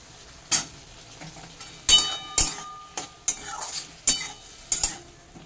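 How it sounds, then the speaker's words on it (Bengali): Ground cumin paste sautéed with taro in a pan for a vegetarian curry, soft sizzle beneath repeated clinking spatula strikes against the metal at irregular intervals. "আর দিয়ে দিচ্ছি বাটা জিরে 1 চা চামচ। এটাকে একটু কষানো হবে।"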